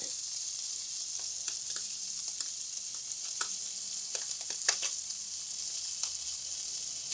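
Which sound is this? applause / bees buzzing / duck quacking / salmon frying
salmon frying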